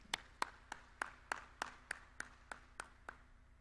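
An audience at an education workshop gives a short, sharp round of applause for a presenting group: about twelve evenly spaced claps in a steady rhythm, close and distinct against a quiet room.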